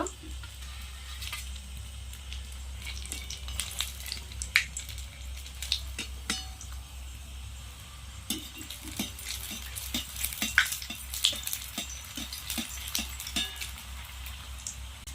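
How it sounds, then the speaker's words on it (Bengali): Egg chops, egg-coated lollipop snacks, sizzle in hot oil with a steady frying hiss, joined now and then by sharp clinks of a utensil against the pan. "এইভাবে আমি সবগুলো ভেজে নেব।"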